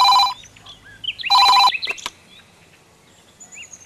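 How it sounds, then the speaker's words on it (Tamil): A telephone bell rings loudly in two short bursts, the second longer, followed by fainter chirping sounds in a quiet indoor room. "கொஞ்சம் ஃபோன் எடுத்து பேசுமா."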